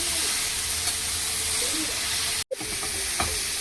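Fish frying in a pan sizzles and hisses steadily after a splash of water goes in, with a brief sharp crackle partway through and soft stirring noises.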